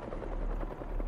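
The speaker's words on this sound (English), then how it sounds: "Something like a helicopter's blades." Helicopter blades thump with a steady low rhythmic pulse in Marvel's Spider-Man 2 video game, a continuous dense rotor drone throughout.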